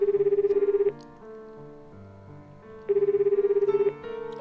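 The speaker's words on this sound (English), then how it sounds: "Panicking, I press the call button and the phone begins to ring." A phone rings in the visual novel game 9-Nine, two bursts of rapid electronic trilling ring tone separated by a quieter musical pause with background tones.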